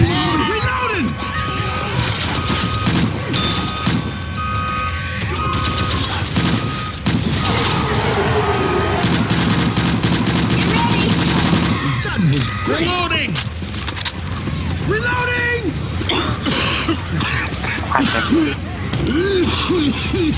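Rapid, dense gunfire and weapon reloading in the zombie shooter Left 4 Dead 2, continuous loud bursts with booms and clatter while players shout and talk over the top throughout.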